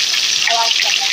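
Tomato pieces hiss and sizzle as they hit hot oil in a pan, a loud, bright, continuous spitting crackle heard close up with no talk over it.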